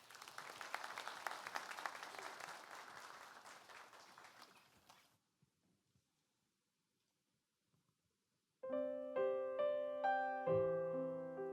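Dense applause from a church congregation at a Sunday service for about five seconds, fading out into silence before a piano begins playing.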